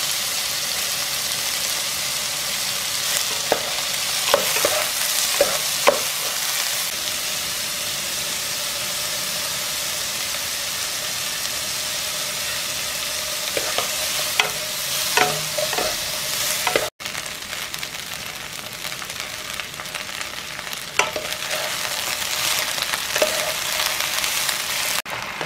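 Spinach stir-fried in oil in a pan for japchae, giving a steady close sizzle with intermittent scraping and stirring clatter from a utensil.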